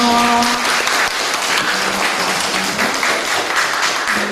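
A church congregation at a Korean youth dedication service claps in a steady, loud burst of applause to welcome a returning member, with a voice briefly audible at the start.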